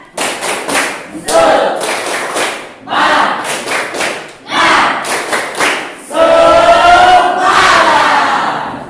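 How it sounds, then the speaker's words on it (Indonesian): A classroom group performs the 'tepuk semangat' spirit clap: bursts of loud rhythmic group clapping in short patterned phrases with pauses between, mixed with shouted chanting voices, ending in a longer cheer. "Tepuk semangat."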